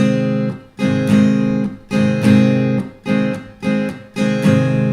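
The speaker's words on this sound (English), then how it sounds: "You just take the side of the hand and you hit the strings." Guitar strummed in a steady rhythm, the side of the hand hitting the strings so each strum is choked off by a quick percussive mute that leaves short gaps between chords, close and fairly loud.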